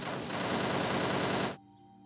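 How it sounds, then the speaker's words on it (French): Rapid gunfire rattles in a dense, sustained burst for about a second and a half, loud and rough, then stops abruptly, leaving a faint tonal hum. "On dirait que je viens d'entendre un coup de feu par là."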